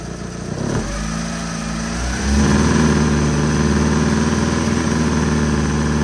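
A car engine runs at idle during a battery charging test, then is revved to about 2,500 RPM and held there. The loud, steady drone rises after about two seconds and stays even, with no talking.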